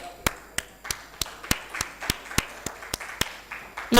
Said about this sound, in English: a huge round of applause, of course, to Mr. Satish, sir